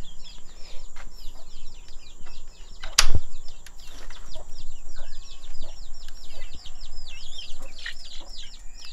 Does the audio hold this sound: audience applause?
no